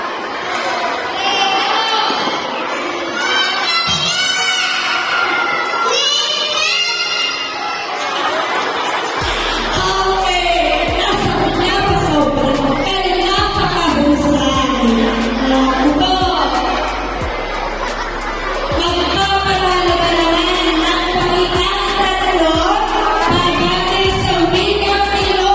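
A crowd of schoolchildren shouts and cheers loudly by grade, a dense continuous roar of young voices with whoops rising and falling, over a low droning background.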